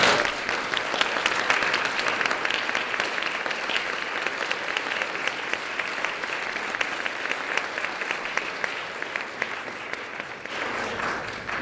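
An audience at a folklore lecture applauds society fellows standing in the room, a dense, steady round of clapping that continues throughout.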